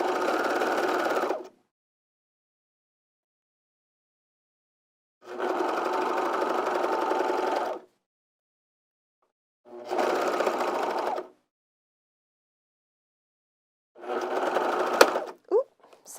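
Serger stitching lounge pant fabric, running in four separate bursts of a few seconds each with silent pauses in between, steady whirring hum up close.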